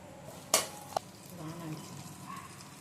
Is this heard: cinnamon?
yes